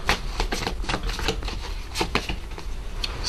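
Tarot cards shuffled and laid out during a reading, a rapid series of crisp riffling snaps and slaps close by, steady throughout with no talk.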